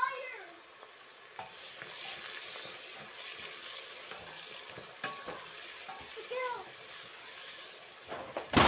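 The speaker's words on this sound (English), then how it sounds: "You need to fry the onions very well." Onions frying in oil for an eggplant stew, a steady soft sizzle with occasional spatula scrapes and clicks, while a cat meows faintly in the background.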